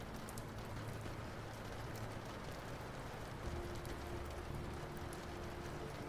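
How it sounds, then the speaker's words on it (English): Rain patters on a glass roof high overhead, a dense, even hiss of drops that holds steady and unbroken throughout, with a soft low rumble underneath. "Rain falls onto the roof far above."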